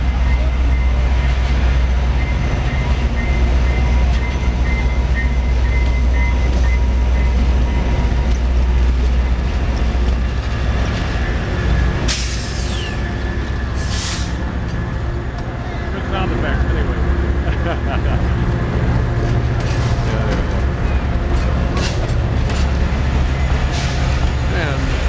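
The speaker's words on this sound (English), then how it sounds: "getting ready for the train coming in" Heavy rumbling train noise fills the scene with a steady low drone, squeals and hisses in the middle, as a passenger train rolls into a station.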